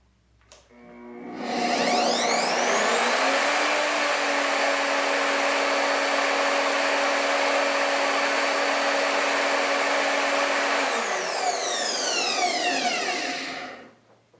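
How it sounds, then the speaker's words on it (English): An Evolution R225 miter saw uses its soft start to ramp up into a loud, steady high whine for about nine seconds, then winds down smoothly under its braking, with no talk. "let's take a look at the noise levels on this saw. Now you notice this does have a soft start."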